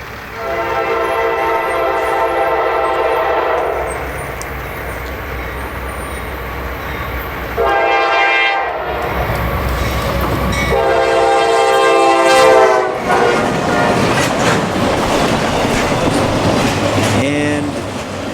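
Freight train 18N, a consist of auto racks, passes near Reading, Pennsylvania, sounding several loud, sustained horn blasts over the steady rumble and clatter of rail cars that carries on from start to finish.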